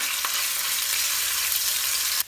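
Garlic ginger paste fries in hot cooking oil for chicken macaroni, giving a loud, steady, close hiss of sizzling that holds evenly throughout and cuts off abruptly at the end.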